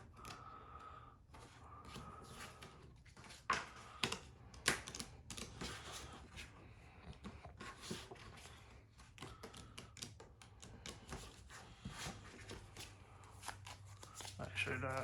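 Playing cards from a pro wrestling promoter card game are shuffled by hand in repeated riffling and tapping bursts, close and crisp, while someone talks intermittently.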